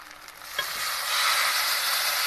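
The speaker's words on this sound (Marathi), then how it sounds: "अशी छोक मारला भाजीला बघा" Hot tempering (chhonk) sizzles as it is poured over mustard greens, a sharp splash that swells into a steady, loud, close frying hiss lasting to the end, with no talk.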